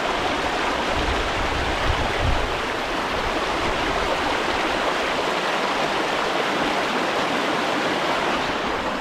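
Steady rushing water from a river in the Yorkshire Dales flowing nearby, a constant broadband roar with no pauses or voices.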